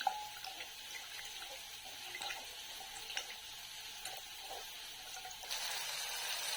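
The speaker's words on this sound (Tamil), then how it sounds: "இப்போ வந்து புளி கரைச்சல் வந்து ஆட் பண்ண போகிறோம்" Tamarind water poured into a pan of cooking tomatoes gives a faint, steady liquid stream that runs for several seconds, with a few small splashes and a slight swell near the end. No one speaks.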